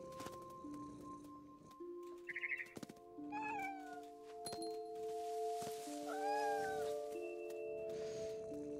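A cartoonish game cat meows a few times over steady electronic background music, with light game sound effects between the calls.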